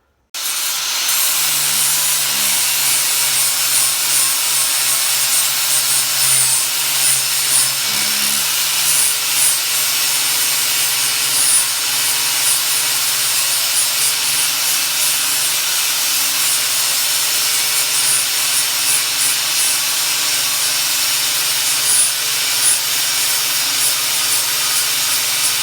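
An old drill press bought at a farm sale runs continuously, a loud steady hissing whir over a faint low motor hum that starts abruptly and holds without a break, with no voices.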